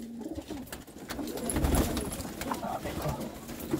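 Pigeons coo in a netted loft outdoors, a steady low murmur of soft cooing running through the whole stretch, close and moderately loud with faint background noise.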